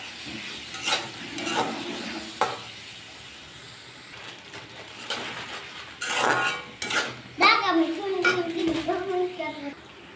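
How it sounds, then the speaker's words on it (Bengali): A spatula scrapes and clatters in a pan while potatoes, tomatoes and ground spices are stirred together, in scattered bursts of clinks and scrapes, with a person talking over the later part. "এখন আমি ভালোভাবে নাড়াচাড়া করে নিব যাতে মশলাগুলো আলু আর টমেটোর সাথে ভালোভাবে মিশে যায়"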